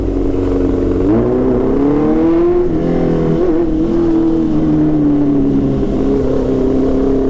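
A motorcycle fitted with an Arrow full exhaust revs loudly and close, its engine note climbing in pitch and holding a sustained, raspy high-rev drone throughout.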